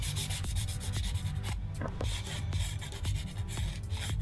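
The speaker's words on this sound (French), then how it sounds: "Donc on va pouvoir limer notre ongle," Steady rubbing rasp of a nail file shaping a fingernail during a chrome nail art manicure, close and continuous with a quick back-and-forth stroke rhythm and a brief pause midway.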